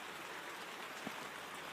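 Steady rain falls on a rainy morning in a Panama garden, an even broadband hiss of drops, constant and fairly soft with no talking.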